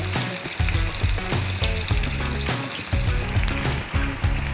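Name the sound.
fish frying crispy in oil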